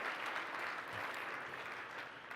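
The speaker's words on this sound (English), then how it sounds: "please give yourselves a huge round of applause for making this conference a big success" A closing keynote crowd at a conference gives sustained applause, a broad, even roar of many hands clapping at moderate loudness with no break.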